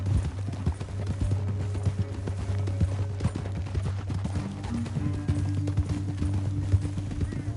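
Horse hooves clop steadily at a gallop in the Western video game Red Dead Redemption 2, a continuous rhythmic beat over a low ambient drone, with no speech.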